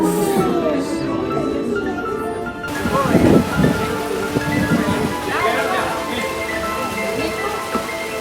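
Rain falls steadily in Brittany, a continuous hiss of drops on surfaces with louder patters and rustling midway, while people move about and talk quietly.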